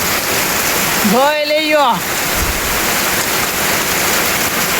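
Heavy rain pours down on a village, a steady dense hiss that runs through the whole stretch, with someone speaking briefly over it near the start.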